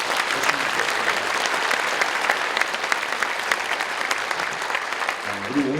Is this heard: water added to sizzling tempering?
no